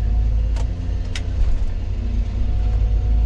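A Tiger Cat logging machine's diesel engine idling as it warms up on a North Carolina logging site, a steady loud low rumble with a couple of brief higher bursts early on, not yet fully revved.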